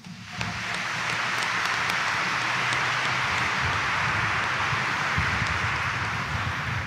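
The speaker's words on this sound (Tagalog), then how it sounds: "pumalakpak ng malakas." A church congregation at a Sunday morning Mass in Quiapo Church claps loudly together, a dense, sustained wash of many hands that rises quickly and holds steady, like heavy rain, with almost no speech.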